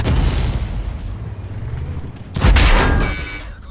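A heavy tank cannon fires in World of Tanks, a loud close boom cracking out after a rumbling engine bed, with the blast ringing on and fading over the final second.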